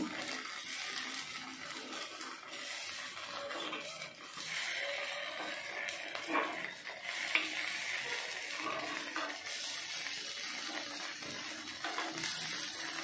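Paddu made with carrot, dill and onion batter fries in a pan, giving a soft continuous sizzle with faint scraping and stirring sounds, close but quiet, with no talking.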